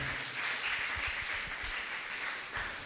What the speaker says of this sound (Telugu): చప్పట్లు కొట్టి దేవుని నామాన్ని ఘనపరుద్దాం.